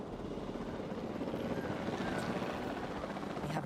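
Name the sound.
helicopter flying in video game Jurassic World Evolution 2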